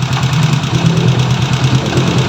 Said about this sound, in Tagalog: Yung lagatak niya o yung lagitik ng makina, normal lang yun, baka sa tune up lang.